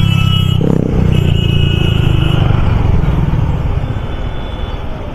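A motorcycle fitted with a loud added exhaust or sound device passes on a busy Barasat street, its engine note roaring close and strong at first, then easing and fading as it moves off.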